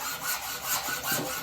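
A hand saw cuts through PVC pipe in steady back-and-forth strokes, about three rasping passes close up and fairly loud, with no voices.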